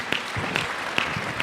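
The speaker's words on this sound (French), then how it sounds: "Applaudissons le Seigneur des Seigneurs" A church congregation claps during a worship service, a short burst of steady hand claps close by.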